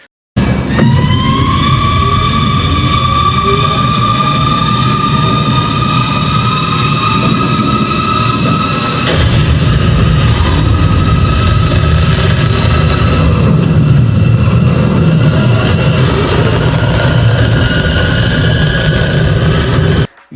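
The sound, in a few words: Batmobile sound effect from the movie The Batman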